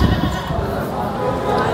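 Goat bleating amid the crowd at the Dhobighat goat market, a short cry half-buried under dense, continuous market clamour and nearby voices haggling over price.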